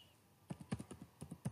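Quick, light keystrokes on a computer keyboard, a short burst of close, crisp clicks in an uneven rhythm after a brief quiet start, with no talking.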